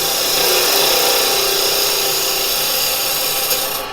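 A woodturning gouge cuts into spinning wood on a lathe, giving a loud, steady, hissing scrape close by that holds for several seconds and eases off at the end.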